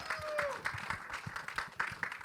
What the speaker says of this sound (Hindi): जोरदार तालियां बजा दें एक बार आप लोग.